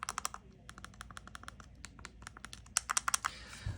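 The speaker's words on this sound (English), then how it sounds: "as you can hear from the buttons, the start and select specifically, very, very clicky" Start and select buttons on an Anbernic RG35XXSP handheld game console, using dome switches, pressed repeatedly in quick bursts of sharp, close, crisp clicks with short pauses and a brief rustle at the end.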